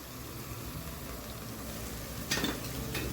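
Mutton keema with chili powder and turmeric sautéing in a pan, a soft steady sizzle with a brief scrape of stirring near the end, fairly faint and without talk.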